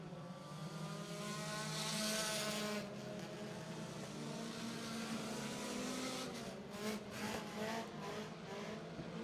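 4-cylinder race cars on hot laps at a speedway roar steadily past, engines droning at high revs with a rising and falling whoosh as each car passes, fairly close and continuous.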